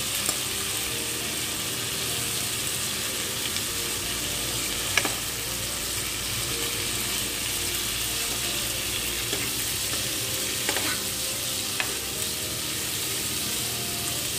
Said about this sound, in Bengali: মাছগুলো ভাজা হয়ে এসছে।